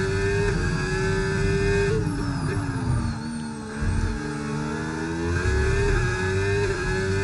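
An F1 car in a racing video game screams along a long straight under acceleration, a loud, sustained high-pitched engine whine with shifting tones and a brief dip midway, no talk heard.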